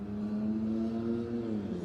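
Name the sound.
car with loud exhaust passing by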